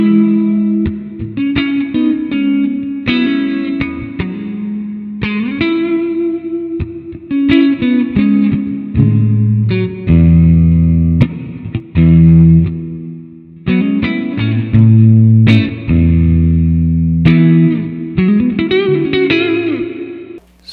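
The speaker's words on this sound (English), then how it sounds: "We have some modulation going, reverb, and a compressor with a wah." Electric guitar played through a Positive Grid Spark practice amp on a blackface preset with modulation, reverb, compressor and wah, ringing melodic phrases and held chords with a swirling, echoing tone, loud and close, no talk.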